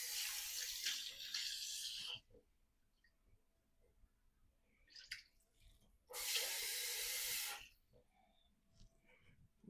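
Water poured into a cooking pot of spiced meat with shrimp and long-legged crab for jute leaf stew, two separate steady splashing pours, each about two seconds, with quiet pauses between.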